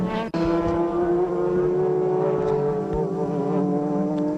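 Super GT race cars in a 2006 championship round at Autopolis, Japan, roaring close by with a steady, loud engine drone and rising harmonic whine, continuous throughout with a brief dip near the start.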